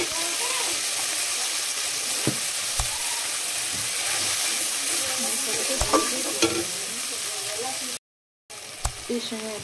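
A sautéed spice paste frying in oil for a jackfruit curry hisses steadily and close, with stirring clicks and scrapes scattered through and a brief drop-out near the end.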